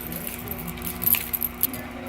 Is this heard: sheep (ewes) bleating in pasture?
no